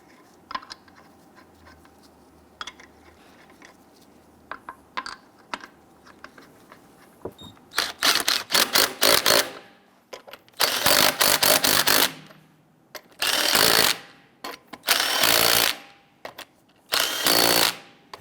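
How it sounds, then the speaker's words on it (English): Impact wrench or power drill snugging down lug nuts on a Jeep Grand Cherokee wheel, several loud bursts of whirring and hammering about a second or two each, separated by short pauses after quieter handling clicks. "we'll go ahead and snug them down."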